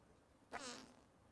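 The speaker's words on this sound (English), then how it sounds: "And we're farting over here." A Sim character in The Sims 4 lets out a single fart at a gym, one short close burst that trails off into quiet game ambience.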